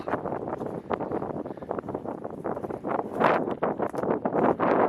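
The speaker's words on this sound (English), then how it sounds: "A bit windy now too." Gusty wind buffets the microphone on an exposed outdoor hilltop, a continuous loud rushing roar with surges and no voices.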